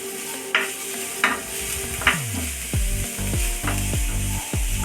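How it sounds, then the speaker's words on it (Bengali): Cashews fry with chopped onion in a pan, a steady sizzle broken by a series of rhythmic scraping, clicking strokes as the mixture is stirred. "কাজুটা একটু হালকা করে লাল লাল করে আমি ভেজে নেব"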